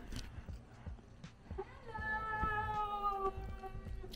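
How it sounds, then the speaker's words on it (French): A small cat meows in a living room, a drawn-out, moderately faint call with quieter household movement and noises around it. "on chill au salon. Avec le chat. Le petit chat."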